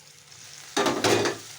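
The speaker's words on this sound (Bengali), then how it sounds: "আলুটা সুন্দর ভেজে গেছে দেখি আলু আর মশলাটায় তেল ছেড়ে দিয়েছি" Potatoes with spices in hot oil, stirred once in a pan with a sudden loud burst of sizzling and scraping that fades after about a second, close by and without talk.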